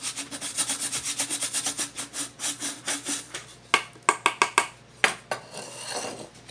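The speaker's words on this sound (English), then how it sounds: "So I'm just pushing down and rotating so I sand all the way around." A Native American flute stick being sanded by pushing down and rotating, a rhythmic, close scratchy rasp in quick repeated strokes, then a few sharper knocks and scrapes.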